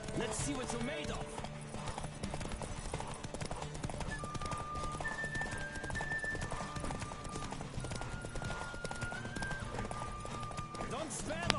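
Horse hooves in The Witcher 3 horse race, steady clip-clop running under continuous voices and game music, with occasional whinnies.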